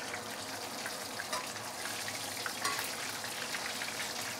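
A whole snapper deep-fries in a pot of hot oil at home, giving a continuous dense sizzle and crackle with a steady level and no voices.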